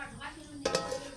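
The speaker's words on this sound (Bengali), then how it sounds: "এবার একটা ঢাকনা দিয়ে ঢেকে দিব।" A lid goes onto a cooking pot of fish curry with banana flower, giving a quick pair of light metallic clanks over the soft bubbling and sizzle of the simmering food.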